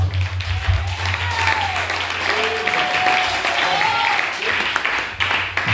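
Applause from a wedding crowd acclaiming the newlyweds, a dense continuous wash of clapping that holds steady and loud for several seconds, with a faint voice and tonal sounds riding over it.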